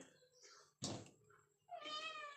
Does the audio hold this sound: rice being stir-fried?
no